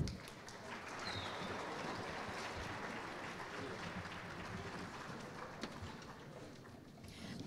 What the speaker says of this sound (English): Please give these special guests another round of applause.